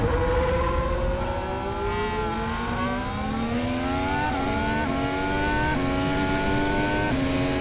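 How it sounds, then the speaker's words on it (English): Formula 1 race car engines recorded on board, a loud continuous high-pitched whine that climbs through the revs in repeated steps as the gears shift upward, with no talk. "We actually were allowed to install microphones on the real F1 cars, which was, a tricky thing to do, to capture the real sounds of the engines."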